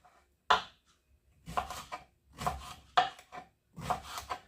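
A knife chops through eggplant on a cutting board in several separate strokes, close and fairly quiet, with pauses between cuts.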